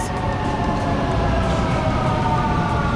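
Vienna U-Bahn underground train arriving at a platform bound toward Stephansplatz, a loud steady rumble and wheel roar filling the station with no voices over it.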